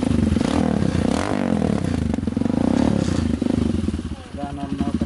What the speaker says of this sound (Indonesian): kita akan coba hidupkan motornya